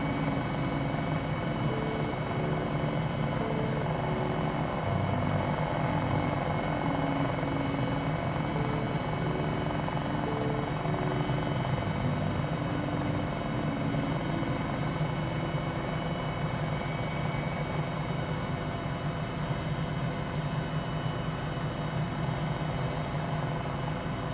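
A 500E helicopter in a flight simulator game hums steadily with engine whine and rotor drone, constant and unbroken throughout, near and even in level, with no talking.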